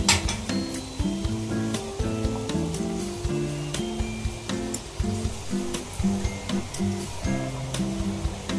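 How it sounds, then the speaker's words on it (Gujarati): Chapdi dough sizzles steadily as it fries in hot oil, a continuous close crackle broken by occasional clinks and stirring knocks, with no voices. "થોડી લાલ પડતી થાય ત્યાં સુધી તળવાની છે અને અંદર સુધી તળાઈ જાય"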